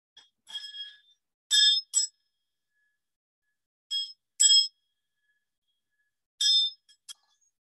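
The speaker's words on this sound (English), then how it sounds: "Let us now enter sacred space with the ringing of the bell." A small bell rings in bright, metallic strikes during a church service: a few scattered taps, then paired rings, with quiet pauses between each group.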